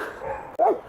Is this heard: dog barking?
yes